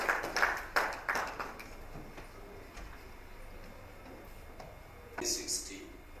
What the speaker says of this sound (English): Please a round of applause for him as he comes up